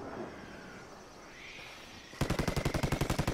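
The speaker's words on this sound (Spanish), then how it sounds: "¡Nos disparan! ¡Nos disparan!" Rapid automatic gunfire from a jungle-set shooter video game erupts partway through, loud, close and evenly pulsed in a steady burst, after a quieter stretch of ambient game noise.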